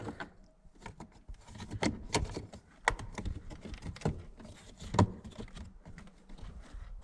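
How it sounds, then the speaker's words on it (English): Plastic cover snapped into place over the cabin filter of a Mazda CX-7, heard as a run of close, sharp clicks and light plastic knocks and rubs, with a few louder snaps. "then we can install the plastic cover"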